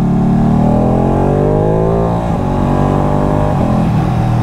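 Ducati Panigale motorcycle engine at full throttle, loud and close, with a continuous high revving roar whose pitch climbs and shifts through gear changes.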